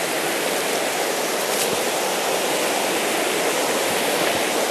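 Middle Branch stream rushing loudly and steadily after a thunderstorm, water running high in a continuous broadband roar with no other sounds.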